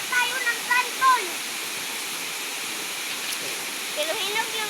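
Water from a stream flows in a continuous broadband rush, loud and close, with a few brief voices over it.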